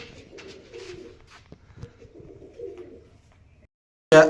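A female flying pigeon, back from a long first-day flight, gives soft repeated cooing close by, ending in a brief loud noise.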